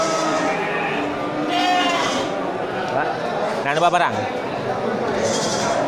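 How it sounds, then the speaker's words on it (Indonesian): Breeding goats and male and female sheep in a pen, with several close, wavering bleats repeating over steady barn noise while people talk nearby. "Di depan kita ini terlihat banyak kambing indukan ya."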